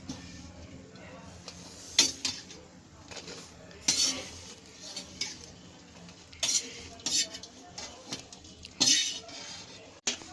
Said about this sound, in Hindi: अब ये नारियल हमारा भुज गया है, इसको भी हम इसी बर्तन में निकाल देते हैं जिसमें हमने सूजी निकाली थी।